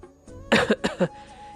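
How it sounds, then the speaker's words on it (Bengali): A light human cough, a quick cluster of three short, close bursts in a quiet room, heard alone with no talking. "হালকা কাশি দিলাম"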